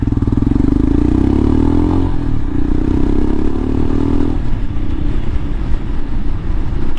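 A Royal Enfield Himalayan motorcycle on an enduro ride along Ortega Highway 74, its Delkevic exhaust running with the baffle removed: a loud, close engine drone that shifts pitch as the revs change, with scattered crackling pops.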